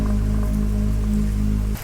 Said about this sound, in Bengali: বৃষ্টি পড়ছে টিপটিপ করে